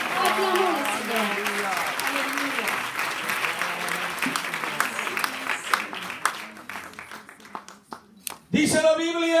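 A church congregation applauds during a sermon, sustained clapping mixed with voices and cheering, turning into a scattered rhythmic clap before a loud voice cuts in at the end.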